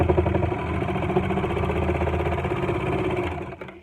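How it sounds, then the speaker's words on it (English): A serger hums steadily while sewing the long edge of a fabric face mask, a close, even mechanical whir with a rapid pulsing beat that slows and stops at the end. "I'm just going to sew along the long end."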